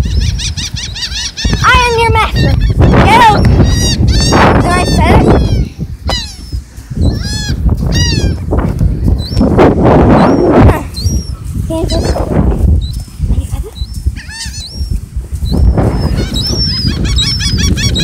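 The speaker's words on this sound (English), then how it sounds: "This is great! Seagulls everywhere!" Seagulls in New Jersey give loud, repeated squealing and honking cries, many birds calling close by in overlapping bursts with brief pauses.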